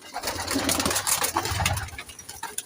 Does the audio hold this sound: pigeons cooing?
yes